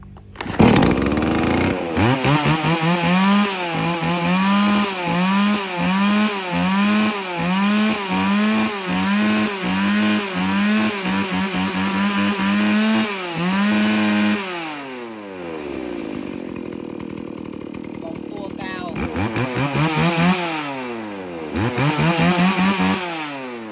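A used Japanese chainsaw starts by pull cord and then runs loud and close, revving in a rapid series of throttle bursts before dropping to a rough idle and revving again.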